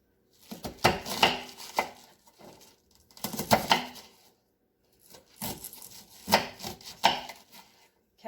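A knife chops through fresh cabbage on a board in bursts of rapid, crisp strikes, grouped in three clusters separated by short pauses, close and fairly loud with no voice.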